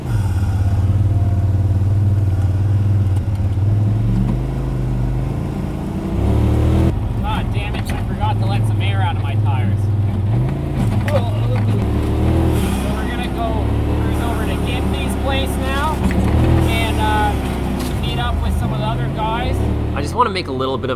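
A turbocharged side-by-side UTV engine drones steadily and loudly on a summer trail ride, its revs rising and falling continuously through the whole stretch, with people talking over it.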